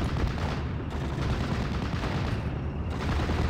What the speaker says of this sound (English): machine gun is going to be engaging the Fulsham Pioneers here